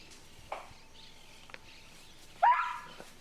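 A dog gives one sharp, close bark after a couple of faint earlier yelps, standing out over a quiet room background.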